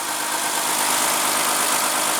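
A 2014 Lexus GS350 with a 3.5 L V6 engine idles steadily, a smooth even hum with a hissy wash on top, nearby and unbroken.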